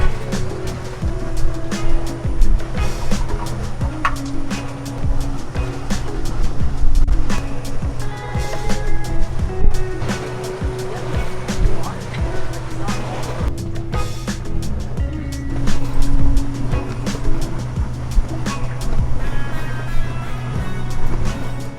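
Open generator with no sound enclosure runs steadily on a boat dock, a constant low engine hum with tonal bands, overlaid by scattered clanks and bumps from activity nearby.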